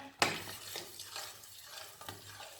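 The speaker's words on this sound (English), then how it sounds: "My garlic, just a little bit of garlic. I love garlic, so I'm going to stir." Garlic stirred in a hot pot for Nigerian jollof rice, a close soft sizzle broken by a sharp scrape at the start and a few quieter spoon strokes after.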